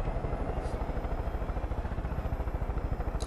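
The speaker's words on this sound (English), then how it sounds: "I'll use this chopper" Helicopter flying in Far Cry 5, a steady close rotor chop with rapid regular beating under a constant engine drone, fairly faint and unbroken throughout.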